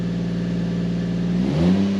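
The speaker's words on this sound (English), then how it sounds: "Give a little vroom." Car engine idling low and steady on ramps, then a short rev that rises and falls near the end, close and fairly loud.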